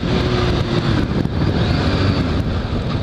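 Kawasaki H2 supercharged motorcycle accelerating hard in third gear, a loud, continuous engine roar with heavy wind rush that stays steady and close throughout, with no talk over it.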